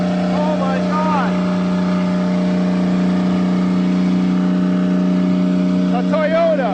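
An abandoned Toyota car engine left standing for 15 years in a forest drones loudly at high revs with its throttle stuck, a steady close roar with a voice talking over it.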